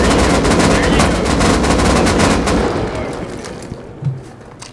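Rapid automatic gunfire in the video game Rust rattles loudly and densely for several seconds, then thins out and fades, ending with a single dull thump.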